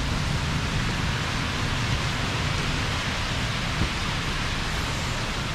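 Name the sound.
rain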